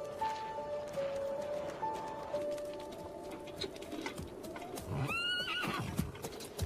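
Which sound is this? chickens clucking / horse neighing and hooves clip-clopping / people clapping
horse neighing and hooves clip-clopping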